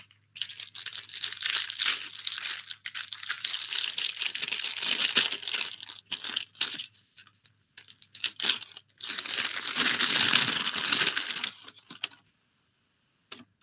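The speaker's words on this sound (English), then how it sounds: "You can hear all the rustling." Paper ballots rustle and crinkle inside a ballot box at a board of trustees meeting, a fairly close, continuous shuffling with a few pauses, heard alone with no talking.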